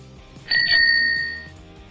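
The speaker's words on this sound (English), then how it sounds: "It's a bicycle bell." Bicycle bell giving a quick bright ring that lingers and fades over about a second, heard clearly above a quiet background.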